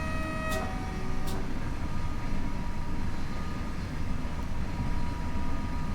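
The NS ICMm Koploper train runs along the Zwolle–Groningen line in Train Sim World 6, with a steady loud rumbling roll, a tonal whine, and two brief high clicks early on.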